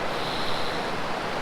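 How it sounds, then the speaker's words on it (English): Crystal clear stream running past a van campsite among pine trees, a steady, close, full rushing wash of water with no pauses. "This crystal clear water running by."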